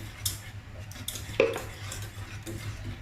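A utensil stirs coconut milk in a pot while cooking sweet cassava talam, giving soft scraping and a few sharp metallic clinks against the pot over a low background hum.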